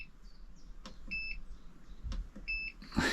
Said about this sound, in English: which has this absolutely pointless beep